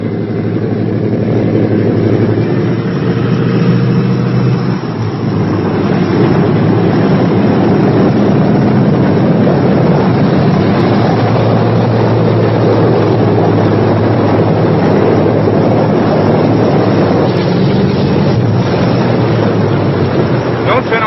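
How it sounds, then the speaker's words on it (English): The piston engines of a B-17 bomber drone loudly and continuously, a thick, rumbling roar that holds steady throughout with faint voices buried beneath it. "Don't turn off the ignition until the engines have stopped turning over."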